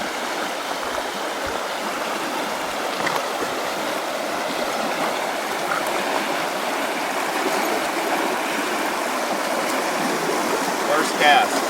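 Rushing river rapids on the Root River, a steady broadband wash of flowing water that holds even and close throughout, with faint splashes near the end.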